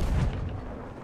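Ship cannon fire in the pirate video game Sea of Thieves: a heavy, booming low blast that hits at once and rolls off into a rumbling decay.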